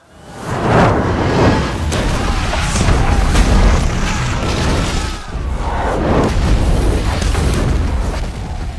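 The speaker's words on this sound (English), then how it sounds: "balls of fire exploding across the city as men try to defend the gates and the walls" Fireballs explode across Jerusalem during a night siege in the film Kingdom of Heaven. Loud booming blasts and whooshes follow one another over a dense rumble of battle, with a brief dip midway.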